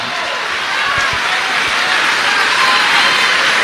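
Loud, dense church audience applause fills the space as a continuous roar of many hands, with a few low thumps underneath and no break throughout.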